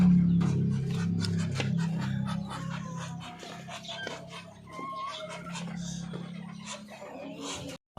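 Native darag chickens and chicks cluck and chirp at feeding time, a scattered chorus of nearby clucks and peeps, with a voice speaking faintly now and then.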